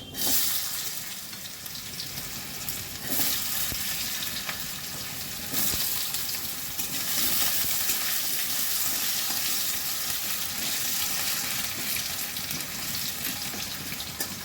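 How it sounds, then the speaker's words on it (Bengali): Potatoes fry in oil with dried red chilli and five-spice, giving an even, close sizzle with a few watery spits and stirring sounds, steady for the whole stretch without speech. "আলুটা একটু ভেজে দেবো।"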